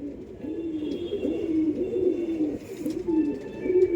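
A pigeon, a racing tournament bird, coos in a repeated series of soft, low, rolling calls, close and alone against quiet background noise.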